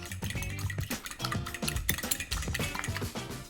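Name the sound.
whisking two eggs in a bowl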